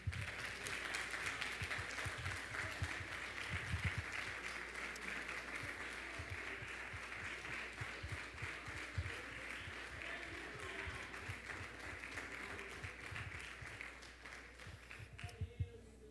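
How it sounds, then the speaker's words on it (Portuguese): Congregation applauding during a church Bible school lesson, with sustained, fairly faint clapping that carries on steadily for a long stretch, with voices mixed in. "Você pode aplaudir ao Espírito Santo?"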